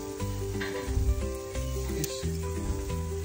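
Chicken sausages sizzling on a barbecue grill outdoors, a soft frying crackle running beneath louder background music.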